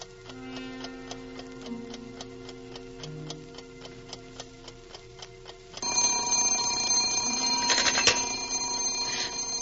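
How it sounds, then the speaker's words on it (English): Alarm clock in a 1950 radio drama: a steady, even ticking, then a loud, continuous bell ringing breaks in partway through and carries on to the end. "It's my alarm clock."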